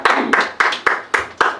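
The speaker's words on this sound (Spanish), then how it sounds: "Ahora sí pueden aplaudir." A small group claps after a graduate degree exam, a handful of sparse, distinct hand claps in a loose rhythm of roughly six bursts, fairly close and loud in a quiet room.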